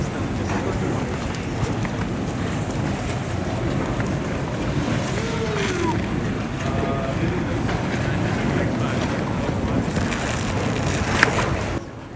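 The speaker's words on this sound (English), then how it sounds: "The water tumbles 10 meters, which is about 33 feet, into a deep blue pool, framed by steep canyon walls." A waterfall in Johnston Canyon drops about 10 meters into a deep pool between steep rock walls, a steady, broad roar of falling water that holds constant and fades slightly at the very end.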